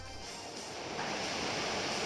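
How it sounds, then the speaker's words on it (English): A Muddy Water attack in a Pokémon video game battle gives a faint, steady rush of surging water, a broad hissing wash that swells slightly over about two seconds with no voices. "We see Muddy Water come out."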